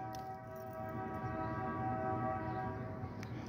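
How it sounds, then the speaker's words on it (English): A train on railroad tracks in Chicago gives a sustained, horn-like tonal drone over a low rumble, fairly steady and heard from a distance. "you hear the railroad, listen."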